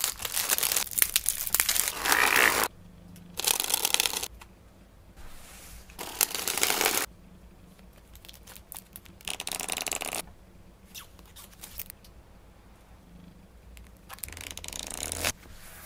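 Crinkling plastic wrap and paper as Butterfly Worker Edition playing card decks are unwrapped on a table, coming in several close bursts separated by quiet pauses.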